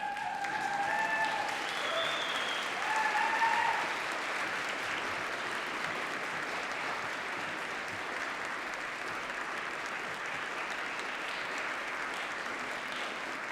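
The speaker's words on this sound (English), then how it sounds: "Can I ask that our graduating students stand and applaud their supporters?" Graduating students at a University of Manchester graduation ceremony stand and applaud their supporters, with steady sustained clapping from a large crowd filling the hall throughout, swelling slightly early on and then holding even.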